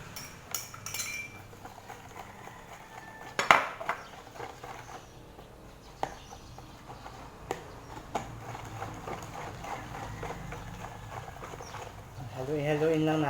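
Metal utensil scraping and clinking in a pan while stirring mushroom tapa with garlic and muscovado sugar, light irregular taps and clinks over a low background hum.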